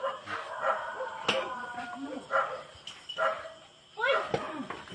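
A tied-up dog gives several yips, whimpers and barks at close range amid tense, shouting voices of people nearby.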